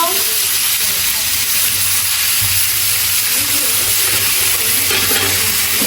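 Dried fish (shutki) fries in a pan, producing a loud, steady sizzle and hiss that continues without pause.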